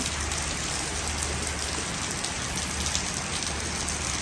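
Heavy rain pours down without a break, a dense, loud hiss of drops hitting surfaces nearby, steady from start to finish.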